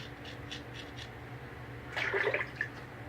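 Water runs and splashes briefly as an antique 1890s Kampfe wedge straight razor is rinsed at a bathroom tap mid-shave, a short close burst of flowing and dripping water over a quiet room hum.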